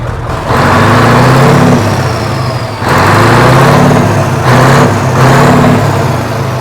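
A Scania 144 truck fitted with a custom exhaust revs hard three times, each loud, deep roar swelling and then dropping back toward idle, close by and dominating the clip.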